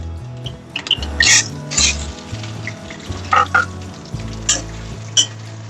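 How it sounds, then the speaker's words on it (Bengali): Potatoes frying in hot mustard oil in a kadai until golden brown give a steady sizzle with several louder bursts of crackling and stirring, over a low, even bass hum in the background. "তেলটা গরম হলে পরে এতে আলুগুলো ভেজে নেবো।"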